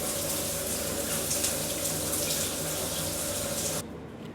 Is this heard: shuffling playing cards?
no